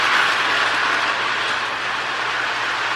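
A Marx Meteor battery-powered DC toy locomotive, a 70-tonner in Lehigh Valley livery, runs with a steady whirring, rattling motor and gear noise, close and continuous.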